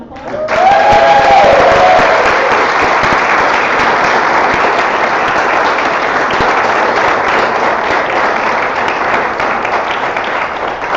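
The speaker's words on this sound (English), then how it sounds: "should we give another round of applause?" Sustained audience applause from a crowd at a live event, loud and steady, with a few voices briefly audible over the clapping near the start.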